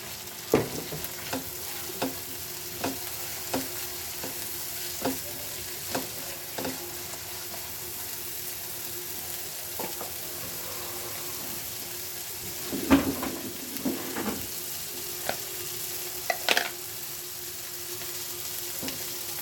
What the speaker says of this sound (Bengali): মশলাটা ভাজা শেষ হয়ে গেছে